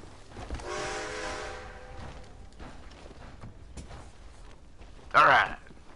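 A train in the video game Red Dead Redemption 2 sounds a long, tonal horn blast, followed by quieter rumbling and a short, loud burst near the end, while someone talks over the game.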